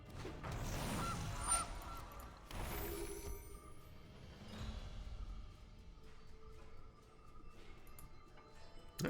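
A goose-like honk sounds from the Goose card in the MTG Arena digital card game, a few faint cartoonish honks early on, then quieter clicking game effects.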